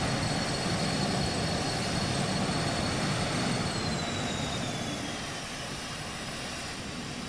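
A Lear 35A jet's thrust reversers roar steadily, a loud broadband rush with a faint whining tone sliding across it, easing off slightly toward the end.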